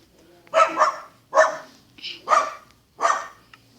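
A person imitates a dog barking in a Minecraft parody, giving five loud, close, rhythmic bark-like shouts in a steady series with short gaps between them and no other talk.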